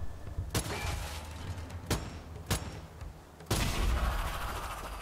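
Single heavy gunshots ring out one at a time in the third-person shooter Strange Brigade, four or five sharp cracks spaced a second or so apart over low ambient rumble, near and fairly loud.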